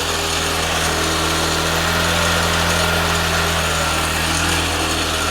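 A small mini jeep engine runs steadily at idle, a loud, constant buzzing drone with a high whine that holds unchanged throughout, close by and with no voices.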